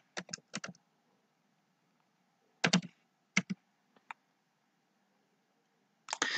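Short bursts of keystrokes on a computer keyboard, clustered into quick groups of clicks separated by pauses of silence, close and fairly quiet, with no voices.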